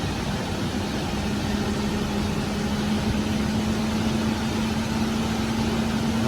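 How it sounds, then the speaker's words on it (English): A truck engine runs with a steady, even drone and a constant low hum. It is fairly loud and close, with no clear rise in revs or audible gear change. "give it some gas and see if it'll shift through them"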